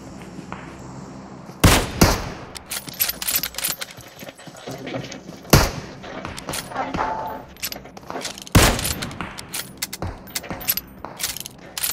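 Gunfire in PUBG Mobile: several sharp, loud single shots spaced a few seconds apart, with scattered smaller cracks and game ambience between them.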